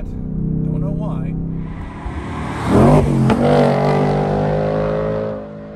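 A 2024 Ford Mustang GT V8 revs hard during a burnout, a deep idle rising into a loud surging roar with rising pitch sweeps, tire noise and sustained high revs, and someone talks over it.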